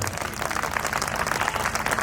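An audience at a Hindi kavi sammelan poetry gathering breaks into steady applause, a dense wash of many hands clapping at moderate volume, with no voices over it.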